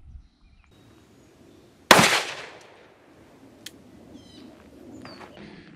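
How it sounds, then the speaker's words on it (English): A single sharp gunshot from a Smith & Wesson Governor revolver loaded with .410 number 6 shot, fired point blank at a target outdoors. The crack is loud and close and decays quickly, with faint birdsong in a quiet background. "let's see what point blank range with number 6 shot will do"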